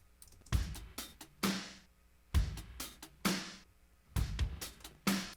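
A dry drum pattern with punchy kicks and crisp snare and cymbal hits in a steady groove, echo effect switched off, each hit cutting off cleanly with no echo trailing it.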